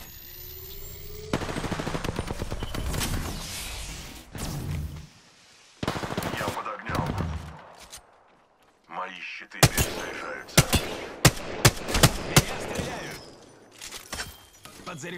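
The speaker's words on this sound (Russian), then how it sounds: "Эти клоуны стреляют по мне." Rapid gunfire in the Apex Legends video game, loud bursts of automatic fire and sharp single shots arriving in clusters with short gaps between volleys.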